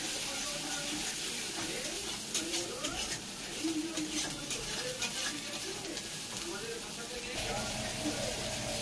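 Spice paste frying with chili powder in a pan for khichuri, a steady close sizzle and hiss with recurring scraping strokes from stirring and occasional light spatter.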